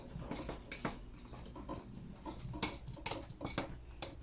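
Spoon stirring pizza dough ingredients (flour, baking powder, salt, a splash of oil) in a bowl, giving irregular light scrapes and clinks at close range, quiet, with no talking.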